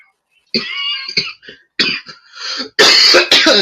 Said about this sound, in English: Coughing, dying.